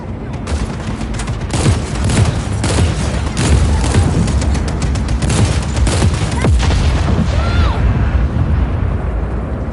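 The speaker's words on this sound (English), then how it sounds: "Taking fire!" Heavy gunfire and explosions fill a Just Cause 4 combat scene: rapid, dense volleys crackle and boom continuously and loudly, with voices faintly mixed into the chaos.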